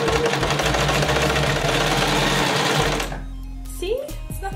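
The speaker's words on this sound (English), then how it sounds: "Machine, you just put your foot here on the pedal" A foot-pedal sewing machine stitches fabric with a loud, fast, steady mechanical whirr at close range for about three seconds, then stops. A few faint clicks and a voice follow.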